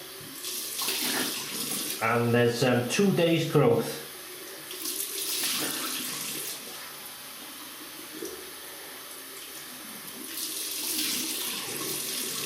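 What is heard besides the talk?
running tap water while rinsing face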